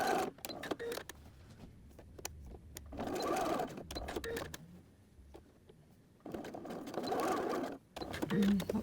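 Sewing machine stitching quilted fabric for a notebook cover, bursts of fast mechanical whirring separated by short pauses, close by, with a person talking at times over and between the runs.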